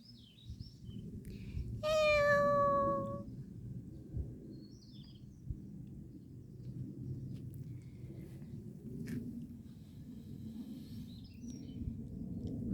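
A single drawn-out meow from a stray cat rises clearly near the start, then gives way to a low rumbling background with faint chirps and scattered clicks.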